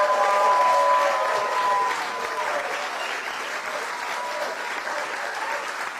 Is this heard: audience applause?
yes